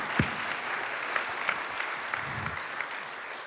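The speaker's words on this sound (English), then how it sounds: "we'll give you a round of applause" Audience applause for returning alumni at a church gathering, a steady wash of many hands clapping with a few sharper nearby claps and thumps mixed in.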